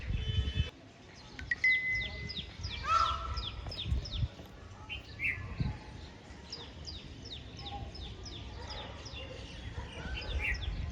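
Crows and small birds in a tree, repeated caws and scattered chirps over faint background noise, moderately distant with brief gaps and bumps of handling.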